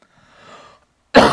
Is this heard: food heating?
no